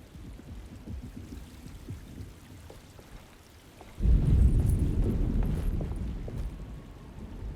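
Storm ambience in the Alone in the Dark remake: steady rain hiss that swells suddenly into a deep, rumbling roll of thunder lasting several seconds, with no talking.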